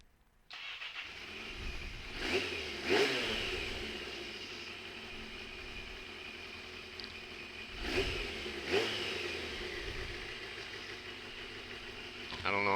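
A mini Tenere 700 project motorcycle starts and settles into a steady idle, then its engine is blipped up twice in quick pairs before returning to idle, with faint speech around it.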